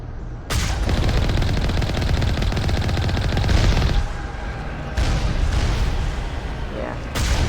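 Video game guns fired to clear them, loud rapid bursts of automatic fire in several long volleys separated by brief pauses.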